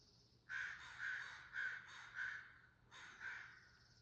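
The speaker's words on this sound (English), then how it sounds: "The bird stopped crowing" Crows caw harshly in a series of about six loud rhythmic calls, spaced in two bursts with a short pause, close by outdoors over low background hum.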